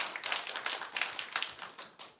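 A church congregation clapping together during a Sunday morning service, a soft, distant patter of many hands in loose rhythm, fairly quiet throughout.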